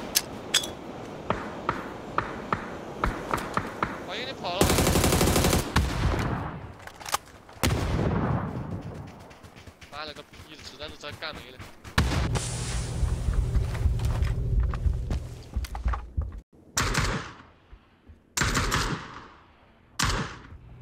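Rapid gunfire bursts from a first-person video game shooter, with repeated loud automatic volleys, single shots and explosive bangs spread through the span, close and dense in places with brief pauses between.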